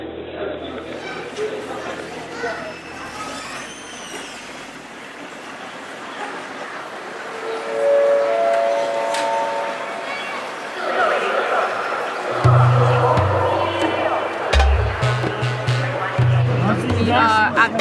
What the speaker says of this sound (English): We are at the Urumqi train station, about to try and get out of the city.